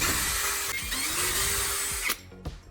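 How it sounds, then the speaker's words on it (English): A power drill bores small holes around the edge of a lid, one steady whining run that shifts pitch, then stops abruptly before a short second burst, close and fairly loud. "After cutting, drill small holes around the edge for mounting screws."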